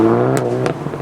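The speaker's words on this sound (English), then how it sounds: "a distant GTI with revs." A Volkswagen Golf GTI (Mk7-era) engine revs at a distance, a steady tonal drone with brief sharp crackles and pops breaking through, no voices.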